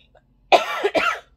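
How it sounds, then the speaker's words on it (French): Two quick, harsh coughs close to the microphone, one right after the other, in an otherwise quiet room. "du coup, je tousse"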